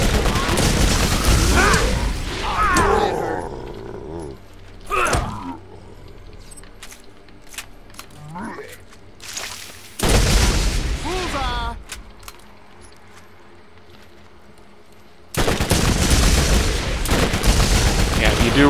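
Rapid SMG gunfire from a Borderlands shooter game, coming in dense, loud bursts at the start, middle and end, with quieter gaps holding sparse game effects between them.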